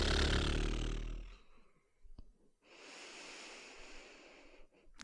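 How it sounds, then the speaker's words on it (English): A long, breathy exhale comes out through fluttering lips, followed by a quiet pause and then a softer, steady airy breath. "Maybe taking a breath in and fluttering through the lips as you exhale."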